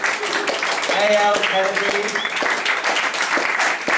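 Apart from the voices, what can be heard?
audience applauding the writers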